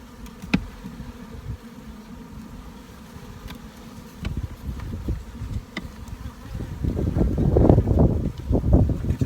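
A steady hum of many honeybees buzzing up close around an open hive, swelling louder toward the end, with gusts of wind rumbling against the microphone.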